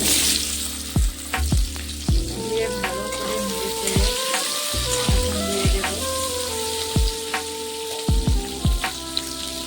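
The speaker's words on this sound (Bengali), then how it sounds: "আলুটা ভালো করে ভেজে নেব" Boiled small potatoes frying in hot oil with bay leaves and cumin seeds, a steady close sizzle broken by repeated sharp scrapes and knocks of a spoon stirring in the pan.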